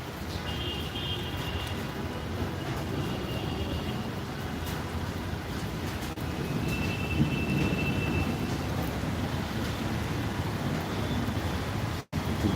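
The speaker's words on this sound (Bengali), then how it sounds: "বহুল প্রত্যাশিত এই বৃষ্টি" Steady, dense rainfall hisses continuously at moderate loudness throughout, with no speech heard.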